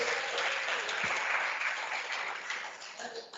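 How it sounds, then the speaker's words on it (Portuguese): A church congregation claps together in steady, dense applause that fills the room, strong at first and easing slightly toward the end, with no speech over it. "Aplauda o nome do Senhor bem forte com suas palmas"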